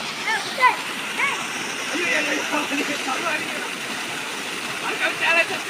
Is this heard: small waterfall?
yes